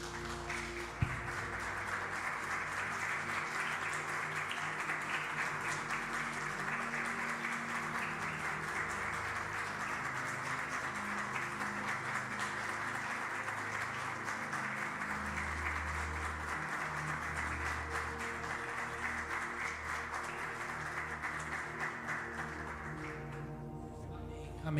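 Church congregation applauding at the end of a sermon, a dense steady clapping wash held for about twenty-five seconds with music or voices faintly underneath.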